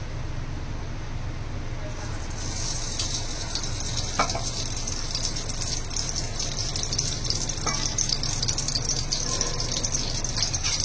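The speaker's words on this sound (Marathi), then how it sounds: "आणि खोबऱ्यांना भाजून घेऊया." Grated coconut roasting in ghee in a pan while making a sweet filling for festival snacks, giving a steady soft sizzle and hiss with occasional stirring scrapes throughout.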